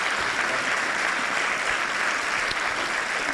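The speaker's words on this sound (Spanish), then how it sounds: "yo pido para ellos realmente un fuerte aplauso porque ha sido magnífico." An audience applauds at the close of a cardiovascular prevention talk in Zamora, producing a full, sustained clatter of many hands at a steady level throughout.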